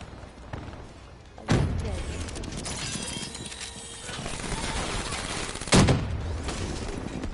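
Gunfire in Black Ops 3 pours into a window, two sharp loud bursts standing out over a continuous crackle of distant shooting and game noise.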